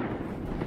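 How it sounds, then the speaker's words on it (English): A cannon launching in the video game Destiny 2, a dense, loud, rumbling blast that fills the whole short moment without any voices. "Just launch the cannon, get in and launch it"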